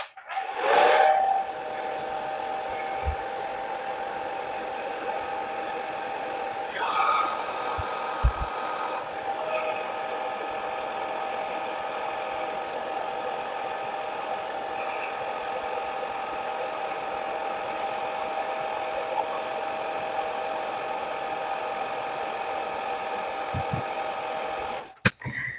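A hair dryer blows steadily on freshly applied paint during a gradient painting session, a constant close whirring drone that starts abruptly, runs unbroken for about twenty-five seconds and cuts off at the end.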